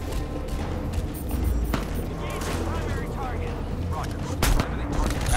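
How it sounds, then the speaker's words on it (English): Intermittent LMG fire in Crysis 2 Remastered sounds from a distance under a continuous game soundscape, with a few sharper shot cracks and a louder burst near the end while a player talks over it. "That was the LMG over there, I think."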